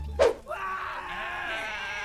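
In Goat Simulator 3, a goat lets out one short, sharp bleat followed by a long, drawn-out, wavering cry that carries on for well over a second, close and loud.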